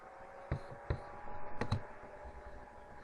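A computer mouse clicks a few times on a job application website, with faint, sharp taps close together against quiet room noise.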